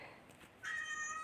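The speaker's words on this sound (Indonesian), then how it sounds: "Kucing juga bisa meraung" A cat lets out a short, rising meow that grows louder toward the end, fairly close and heard alone.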